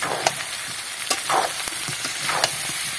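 Three tomatoes fry and get stirred in a pan of prawn and echor kosha, a steady close sizzle crackling throughout with several louder scrapes and clacks from the stirring spoon.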